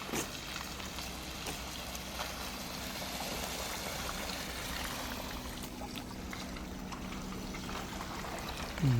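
Drinking water from a leak flowing steadily down a street like a small stream, a constant rushing trickle throughout, with a brief low mechanical sound at the very end.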